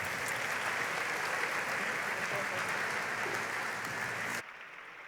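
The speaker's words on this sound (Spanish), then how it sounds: "Otro aplauso, por favor" Dense applause from a crowd fills the clip evenly, then cuts off abruptly near the end, leaving quieter room noise.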